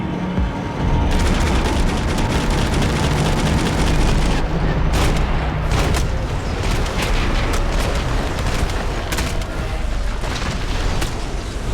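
Loud, dense bursts of gunfire from the video game Max Payne 3, with rapid overlapping shots and heavy booms nearly continuous from start to finish.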